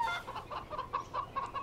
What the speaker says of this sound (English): All farmhouses have chickens.